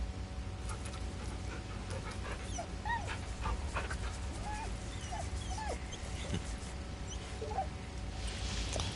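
A dog in Baldur's Gate 3 whimpers in a string of thin, high little whines and squeaks over a steady low background hum, faint and spread across several seconds.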